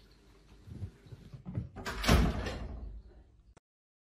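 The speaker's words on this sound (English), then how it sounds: "do you mind closing the door for me?" A sliding door rolls along its track and shuts with a rumbling thud, loud and close, then everything goes silent.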